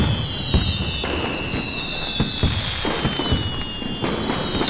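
Fireworks go off in a rapid series of crackling bursts and thuds, with a sustained high whistling streak running over the booms throughout.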